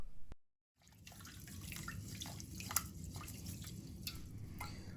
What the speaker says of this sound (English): I'm using 1 cup of rice. Begin by washing it 3 or 4 times until the water is quite clear.